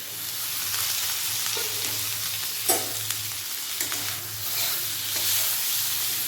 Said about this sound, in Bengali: পেঁয়াজটা ভালোভাবে ভাজা হয়ে গেছিলো এরপর টমেটো ভালোভাবে ভেজে নেবো